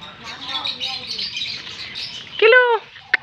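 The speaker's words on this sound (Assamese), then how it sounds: "আৰু এইটো হৈছে মইনা চৰাই, পাহাৰীয়া মইনা।" A hill myna at a zoo gives one loud, ringing call near the end, followed by a short sharp note, after a stretch of background chatter and faint bird sounds while people talk.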